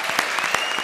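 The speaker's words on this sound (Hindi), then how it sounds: "जोरदार तालियां उन कलाकारों के लिए।" Studio audience at a comedy show applauding performers, a brief burst of steady, loud clapping.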